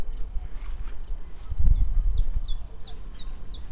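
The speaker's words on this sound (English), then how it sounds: "I don't know what that bird" An unidentified bird sings outdoors in the Cotswolds countryside, a series of short bright chirps repeating in the second half over low rumbling wind-like background noise.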